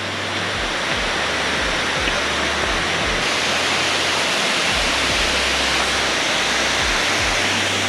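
A jungle waterfall near Dominical, Costa Rica roars at close range as a steady, loud, dense rush of falling water that masks everything else.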